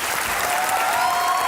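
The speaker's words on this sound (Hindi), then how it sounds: "तालियां बजती रहनी चाहिए।" A studio audience at a comedy talk show claps steadily, a dense, continuous wash of applause without pause.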